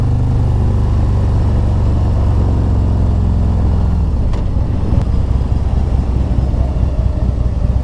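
A 2023 Harley-Davidson Road King motorcycle engine rumbles loud and close with a deep, steady idle, its pitch shifting partway through as the throttle changes, then continuing as a low throb.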